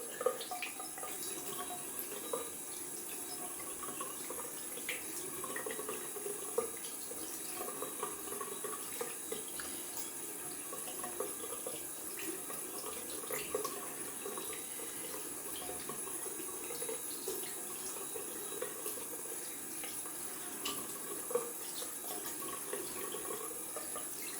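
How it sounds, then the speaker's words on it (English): A bathroom tap runs continuously for a cold water rinse during a wet shave, a steady close splash broken by small clicks and drips of hands and water in the sink. "Going down for a cold water rinse."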